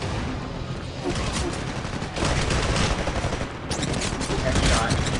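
Weapons fire in Titanfall, dense and continuous automatic gunfire rattling in overlapping bursts throughout, loud and close, with a voice occasionally audible beneath the shooting.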